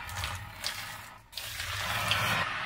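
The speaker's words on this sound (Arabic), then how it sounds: "حلي له القليل من المي" Water poured from a tap over a cup of bulgur soaking in a bowl: a steady, close, continuous rushing splash with a brief dip midway, no talk.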